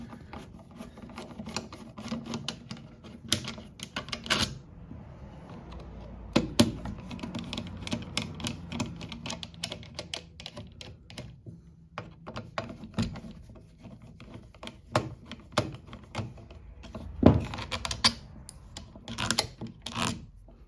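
Screws are removed with a T25 driver from the quarter window motor of a 2005-2009 Ford Mustang convertible, giving quiet, irregular clicking and small metallic rattles close by.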